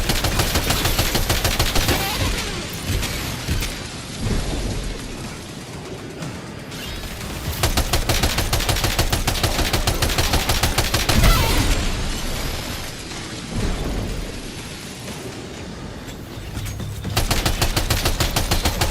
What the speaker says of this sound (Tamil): ஷாட்கன் மிஷின் கன் தான்